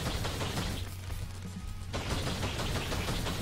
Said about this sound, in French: Tire à nouveau en rafale.